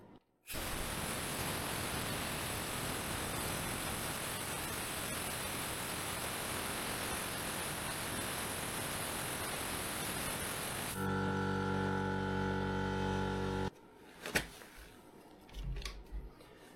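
A vacuum suction tool bleeding a motorcycle brake: a loud, steady hissing rush of air that runs unbroken for about ten seconds, then drops to a lower humming tone before cutting off, followed by a few quiet clicks and handling noises.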